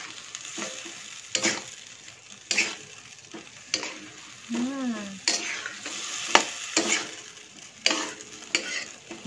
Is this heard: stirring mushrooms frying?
yes